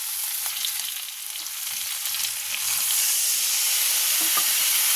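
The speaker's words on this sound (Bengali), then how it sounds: "এটা একটু সামান্য জল দিয়ে দেবো।" Spices with turmeric, salt and cumin powder frying in a pan after a splash of water, giving a steady close hiss and sizzle that swells a little louder partway through, with faint stirring scrapes and no talk.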